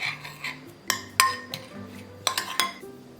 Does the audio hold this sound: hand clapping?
no